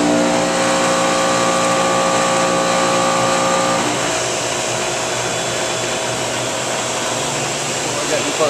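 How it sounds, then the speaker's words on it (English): A 2011 Carrier 30 ton Aquasnap RAP series chiller running glycol, its digital compressor unloading: a steady loud mechanical hum with tonal whine that drops away partway through, leaving a broad airy roar of fans and machinery. "You can hear the digital compressor doing its unloading."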